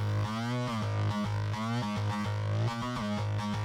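A dry synthesized fake guitar patch with no mixing, a distorted, effects-heavy tone playing a run of separate plucked and sustained notes with strong harmonics, up close and alone.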